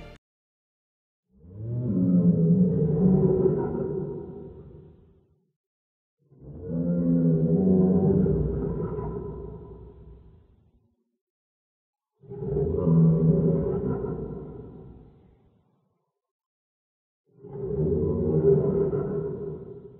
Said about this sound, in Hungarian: Különböző Cactus barlang szörnyi hangokat leakeltek ki, ugye egy barlang belsejéből jönnek ezek a hangok